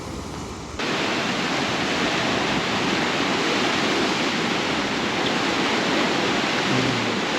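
Sea water rushes over a rocky shoreline on Jeju, a loud, continuous broadband roar that swells in after a brief quieter opening and holds steady throughout.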